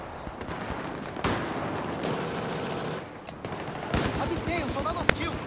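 Gunfire in the shooter Battlefield 4 on PS4, sharp repeated shots and bursts, some close and loud, with someone talking over parts of it.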